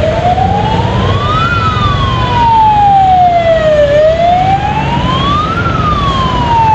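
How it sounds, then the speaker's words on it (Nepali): An ambulance siren wails loudly and close in slow rising and falling sweeps while passing a motorbike on a road, with the rumble of traffic and engine beneath it throughout. "एम्बुलेन्सलाई चाहिँ साइड दिनुपर्छ है गाइड,"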